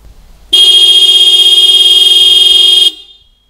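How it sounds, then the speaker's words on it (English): A Toyota Land Cruiser 200 horn sounds one loud, steady blast lasting a little over two seconds, heard from about fifteen meters, starting and stopping abruptly against quiet background. "she's gonna hit the horn for me"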